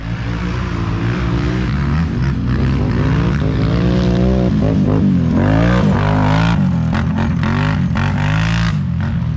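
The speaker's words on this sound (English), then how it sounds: "now Brandon is on a 2016 Can-Am 850" A 2016 Can-Am 850 four-wheeler engine drones loudly and continuously at close range, its pitch rising and falling as the rider revs and eases off.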